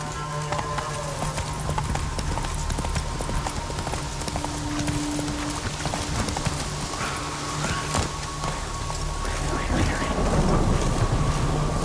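Roach, a horse in The Witcher 3, gallops with a steady clip-clop of hooves across the whole stretch, mixed into loud game ambience of rain and rolling thunder, with no talk.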